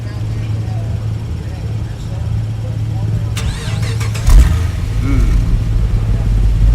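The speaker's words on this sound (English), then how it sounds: "Love the way the exhaust sounds." A 2009 Pontiac G8 GXP starts up and settles into a rumbling idle, with a louder exhaust surge near the end; someone talks over the engine throughout.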